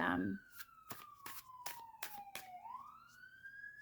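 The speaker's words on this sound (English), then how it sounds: "apologize for the sirens" A siren wails faintly in the distance, its tone sliding slowly downward and then rising again, with scattered knocks and thumps nearby.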